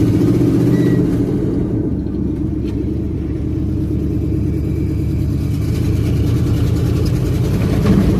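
A car engine with a misbehaving clutch, heard close and loud as a continuous low rumbling idle with a slight lift in revs partway through, steady throughout with no talking.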